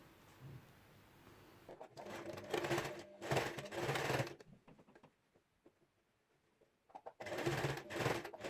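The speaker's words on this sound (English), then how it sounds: "Now you need to sew across there." A sewing machine stitches across fabric while a scrunchie is being made, heard as short, close bursts of rapid mechanical whirring separated by quiet pauses.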